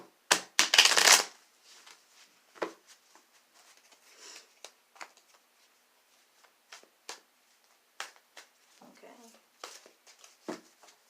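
A deck of tarot cards being shuffled by hand, a loud riffle at the start followed by sparse soft taps and card slides in a quiet room.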